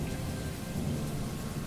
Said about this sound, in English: Rain is heavy.